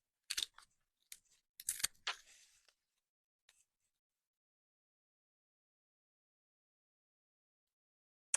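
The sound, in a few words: old scissors cutting thin Dollar Tree wood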